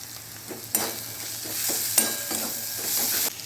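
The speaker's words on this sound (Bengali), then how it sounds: "বেসনটা দিয়ে কিন্তু খুব ভালো করে ভেজে নিতে হবে আবারও।" Fish roe frying with gram flour in a pan, a steady sizzle with a few sharp scraping stirs of a utensil, close and alone.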